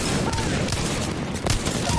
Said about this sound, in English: I'm getting shot by another team